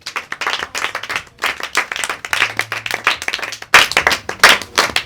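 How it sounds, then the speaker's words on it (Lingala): Congregation at a church gathering applauding for Jesus, loud, rapid rhythmic clapping from many hands continuing throughout, close and energetic. "est-ce qu'on peut applaudir pour Jésus?"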